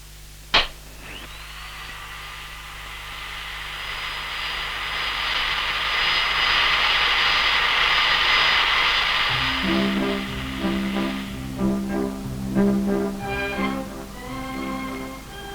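A hovercraft engine roars up from a sharp click into a loud, sustained whine that holds for several seconds, then fades as a lower, pulsing mechanical rumble takes over near the end.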